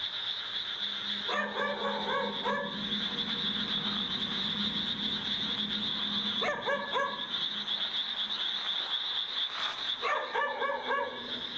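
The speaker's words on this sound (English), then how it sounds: "he decides to film as he searches for the barking dog" Dog in a graveyard at night, giving three bursts of several quick barks spaced a few seconds apart, heard at a distance over a steady high insect drone.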